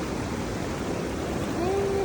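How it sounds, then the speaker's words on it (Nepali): The Kali river flowing in Nepal, a steady broad rush of moving water, loud and continuous, with a faint tonal hum near the end. "अनि यो काली खोला हो"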